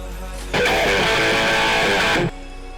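A loud buzzer-like tone marks the start of the end game at a 2024 FIRST robotics competition match, rising abruptly over steady arena noise, holding for about two seconds, then cutting off.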